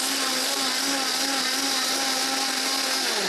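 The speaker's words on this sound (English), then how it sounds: "This is always the scariest part, is opening the blender." A blender blitzes kale pesto sauce with a loud, steady, high-pitched whir that runs unbroken throughout, close and alone.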